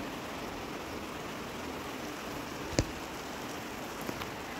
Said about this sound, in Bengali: হঠাৎের মধ্যেই এত প্রচণ্ড জোরে বৃষ্টিটা নেমে গেল